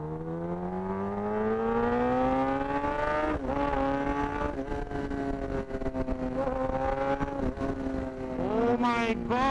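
A Kawasaki Ninja ZX10R motorcycle with a Brocks exhaust accelerates hard, its loud engine tone climbing steadily with brief dips at gear changes, then spiking into a higher-pitched rev near the end.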